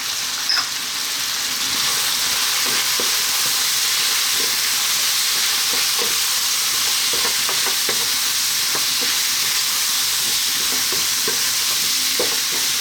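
Ground coriander, turmeric, cumin and chili powder sizzle in a hot pan for a potato curry, a steady bright hiss with scattered soft stirring scrapes and ticks, close and continuous with no talking.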